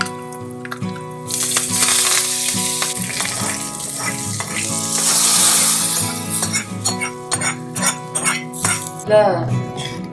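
Asafoetida dropped into hot oil in a kitchen pan, a bright steady sizzle and crackle with clinks of a utensil, while a person talks over it.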